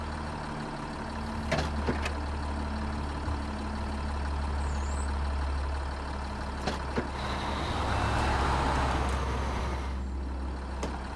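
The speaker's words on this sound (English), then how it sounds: "I'm just going to switch the engine on." Truck engine running in the video game Snowrunner, a low steady rumble with occasional clicks and a swelling hiss near the end, no voices.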